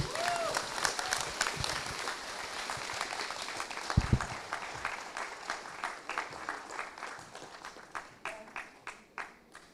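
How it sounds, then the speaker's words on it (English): Audience applauding at a women's day celebration, a dense patter of many hands that swells and then thins into scattered claps toward the end, with some voices mixed in. "Give her a bigger round of applause."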